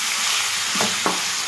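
Chicken with ginger-garlic paste sizzles steadily in a hot pan while a spoon scrapes through it twice in quick strokes, loud and close with no voices.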